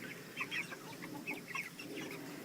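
Month-old chickens cluck and chirp softly in a coop, several birds making short overlapping calls at a steady low level with faint background noise and no talk.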